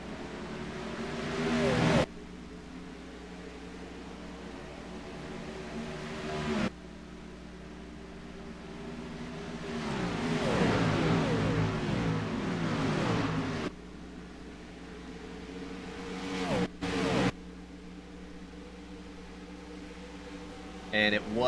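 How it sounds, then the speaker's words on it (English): Race car engines from a racing video game, a 30-car Gen 6 field at Homestead taking the track as the pace car peels off, drone steadily with abrupt cuts and swell louder midway through. "listen to the roar of these engines as 30 cars take to the track with the pace car peeling off"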